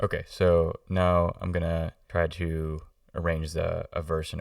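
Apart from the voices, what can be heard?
No everyday noise stands out behind the speech.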